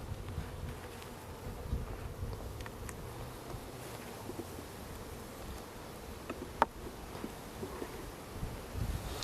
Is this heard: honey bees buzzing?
yes